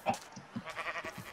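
Sheep in a survival video game bleat in several short, faint calls spaced unevenly across a brief moment, with no talking over them.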